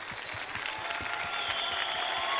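A studio audience applauds a singer on a TV show, with dense, continuous clapping filling the room throughout.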